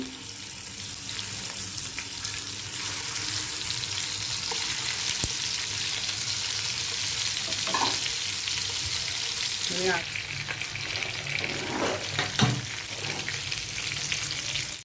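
Stuffed calamari (makul) pan-frying in oil, a steady close sizzle running throughout, with brief scraping and spatula clatter in the second half and some water-like splashing bursts.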